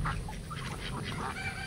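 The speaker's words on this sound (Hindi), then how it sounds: "मोस्टली नाम इसका मोस्कोवी डक" Muscovy ducks on a duck farm in India give several overlapping quacks and honking calls at moderate distance over a low background murmur of the flock.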